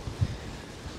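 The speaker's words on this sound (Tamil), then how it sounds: "நல்லா காற்றடிக்குது." Low rumbling wind buffets the microphone on a coastal hiking trail at the Blue Lagoon in Abereiddi, a steady, close roar with brief gusty thumps and no voices.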